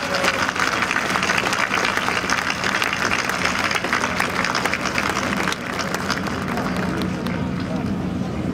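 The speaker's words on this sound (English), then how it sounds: "A big round of applause for your guidance and assistance throughout this" Outdoor crowd applauding at a memorial dedication in Washington DC, dense continuous clapping mixed with crowd murmur that eases slightly toward the end.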